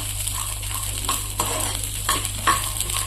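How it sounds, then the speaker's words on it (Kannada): Green peas frying in a pan for restaurant-style matar paneer, heard as a steady close sizzle broken by repeated scraping stir strokes, with no voices. "ಮೊದಲಿಗೆ ನಾವು ಹಸೆ ವಟಾಣಿನ ಫ್ರೈ ಮಾಡಿ ತಕ್ಕೊಂಡ್ರಿ"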